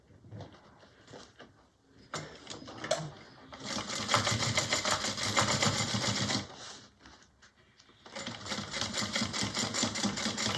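A sewing machine stitches a D-ring tab onto a mini bowler bag at a 3/8-inch seam, running in loud steady bursts with short pauses between, close and alone.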